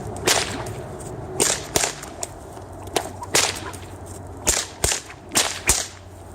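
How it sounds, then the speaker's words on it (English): A two-handed whip cracking routine, with sharp loud cracks arriving in an irregular rhythm of roughly a dozen snaps, some in quick pairs, over quiet outdoor background. "basically it's a two-handed whip routine and it looks sort of like this"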